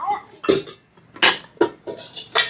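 Metal milk vessels and their lids are handled in a kitchen, producing several close clanks and clinks in irregular bursts separated by short pauses.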